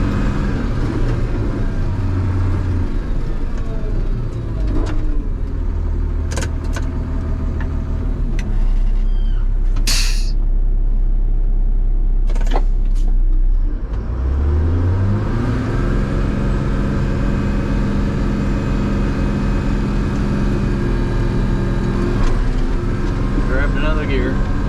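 Off-road truck engine droning loudly and steadily, rising in pitch as it accelerates and shifts gear partway through, with a voice speaking over the rumble.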